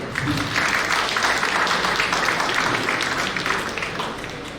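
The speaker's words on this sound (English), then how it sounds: "So again, now clap for yourself." Graduates at a PGDM business school ceremony of honour clap for themselves, a steady, dense wash of applause from a large group filling the room evenly throughout without a break.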